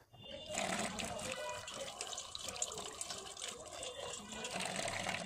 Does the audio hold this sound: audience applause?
no